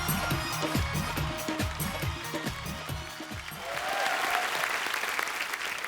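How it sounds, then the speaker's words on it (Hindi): A studio audience at a TV comedy show applauds to welcome a film director, the clapping swelling into a loud, sustained wash after a rhythmic musical beat. "आप सबकी तालियों के बीच इनवाइट करना चाहूंगा मिस्टर उमंग कुमार को।"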